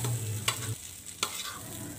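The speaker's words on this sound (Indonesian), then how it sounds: "ini bihun gorengnya sudah mulai matang ya sebentar lagi saya aduk" Rice vermicelli (bihun goreng) seasoned with sweet soy sauce sizzles in a pan. Two quick scraping strokes of stirring break up the steady close frying hiss, and nobody speaks.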